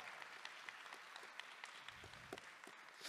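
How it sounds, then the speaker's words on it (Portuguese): A church congregation at a Thursday Catholic adoration service applauds, a faint, sustained patter of many hands with scattered distinct claps, heard from some distance. "Pode aplaudir, pode aplaudir"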